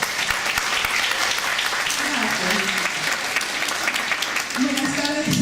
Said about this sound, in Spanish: Así que la recibimos con fuertes aplausos.